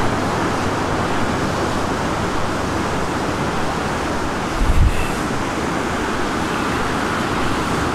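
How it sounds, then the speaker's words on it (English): The Allan Water, a river that may hold salmon, rushing along beside a footpath as a steady broadband wash, loud and unbroken throughout, with a brief low thump midway and no voices. "The river's amazing."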